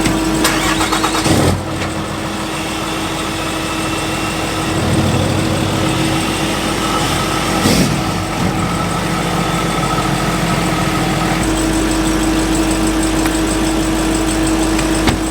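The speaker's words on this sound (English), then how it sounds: "I'm just gonna back the truck up." A diesel truck engine cranks and fires, then settles into a loud, steady, rumbling idle with a couple of brief knocks along the way. No one speaks.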